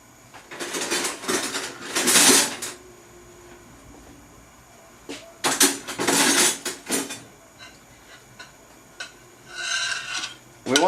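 Small metal pan for tarka dhal being handled on a stove over a high flame, with several loud scraping, rasping clatters in bursts separated by quieter stretches.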